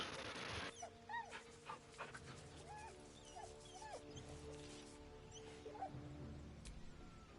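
A dog in Baldur's Gate 3 being petted, giving soft whimpers and short yips with small rising squeaks over a steady background hum, fairly faint and alone.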